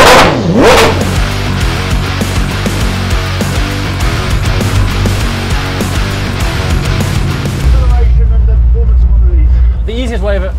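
A 1600 bhp Koenigsegg Jesko hypercar launching hard down a runway on cold tires and brakes, its engine roaring loudly and continuously through rising revs and gear changes, close up for the whole stretch.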